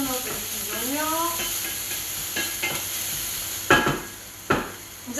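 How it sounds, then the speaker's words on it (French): Onions sizzle as they are stirred in a frying pan for a vegetarian bolognese, a soft continuous hiss broken by a few sharper scrapes and clacks of the utensil near the end, with a brief voice early on. "Hop, on tourne nos petits oignons."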